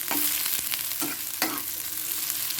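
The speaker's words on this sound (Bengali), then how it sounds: "এটা এখানে রসুন শুকনো লঙ্কা পেঁয়াজ দিয়ে দিচ্ছি কাঁচা লঙ্কা" Garlic, dried chili and onion fry in a pan with a dense, bright continuous sizzle, and a few stirring scrapes cut through now and then, close and steady, with no voices.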